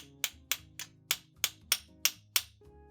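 An RC car CVD axle is rapped against something to pop a tight bearing off, giving eight sharp, evenly spaced knocks in quick succession, close up and alone.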